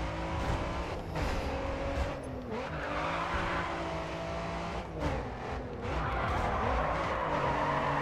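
Race car engines rev and whine in the video game GRID 2 while tires squeal through repeated handbrake skids, with crowd noise behind.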